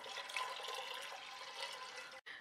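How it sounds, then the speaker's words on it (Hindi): Water pours steadily into a pressure cooker holding soaked dal, a continuous splashing, gurgling flow that ends abruptly with a brief pause near the end. "और इस दाल के साथ साथ मैं इसमें ऐड करूंगी 3 कप पानी।"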